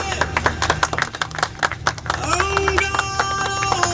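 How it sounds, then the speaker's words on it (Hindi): Applause at an event where an MP unveils an oil painting portrait: a dense burst of many hands clapping close by, with voices talking over the latter half. "जोरदार तालियां"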